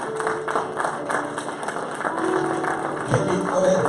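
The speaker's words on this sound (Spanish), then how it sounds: "Dale un fuerte aplauso al Espíritu Santo." A church congregation applauds in sustained, scattered clapping with crowd murmur and faint speech mixed in underneath.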